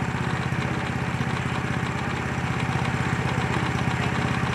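A Mahindra Paddy Walker 6RO rice transplanter engine runs steadily in reverse, a loud, close, evenly pulsing mechanical drone that holds without a break.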